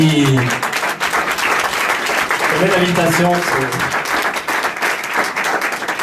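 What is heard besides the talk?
audience applause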